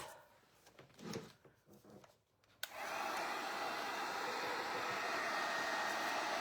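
A hair dryer drying craft paint on a stencilled pumpkin, cat and ghost project switches on abruptly partway through and blows loudly and steadily to the end, after some quieter handling noises.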